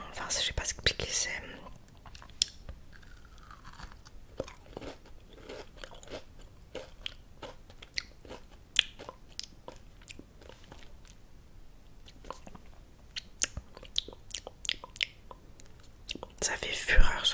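Edible crystal candy, hard outside and soft inside with a violet flavour, is bitten and chewed close to the mic: sharp crunchy snaps and repeated wet chewing clicks scattered through, with quiet whispering in between.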